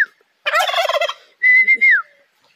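A turkey on a farm lets out a loud, close rattling gobble, then a pause and a drawn-out whistling call, alone in an otherwise quiet setting.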